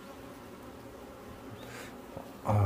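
Steady insect buzzing from several native honeybees and ground wasps, moderately close, with a louder burst near the end as one flies past the microphone.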